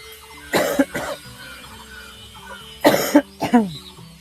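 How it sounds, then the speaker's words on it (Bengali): A person coughs in short bursts, two coughs, a pause, then two or three more, close to the listener against a quiet household background. "মানে এতটা কাশি হচ্ছে।"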